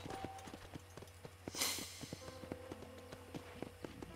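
A horse walks in the video game Red Dead Redemption, its hooves clip-clopping in a quiet, regular rhythm with soft tonal game sounds in the background and no talking.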